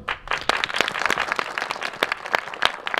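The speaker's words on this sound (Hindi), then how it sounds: "आपकी तालियां अनवरत रहनी चाहिए" Audience clapping for the cast of a stage performance of the Sanskrit farce Matta Vilasa Prahasana, scattered sharp claps forming steady, moderately loud applause.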